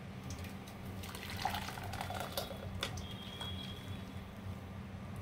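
Pomegranate juice, blended with a little cool water, runs through a strainer in a soft, steady liquid trickle that stays quiet and close throughout.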